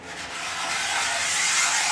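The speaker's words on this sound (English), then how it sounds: "With even pressure on a single stroke, strip it off." A steady, rasping scrape of a scraper blade stripping old finish off a wooden cabinet door in one long, even stroke, growing slightly louder as it goes.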